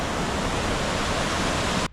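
A waterfall in the Resia valley roars as a dense, loud, unbroken wash of falling water close by, cutting off abruptly just before the end.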